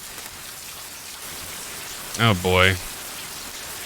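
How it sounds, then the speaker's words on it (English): Steady rain hiss from the Cyberpunk: Edgerunners anime fills the background at a constant level, while a person briefly speaks over it. "Here comes the rain."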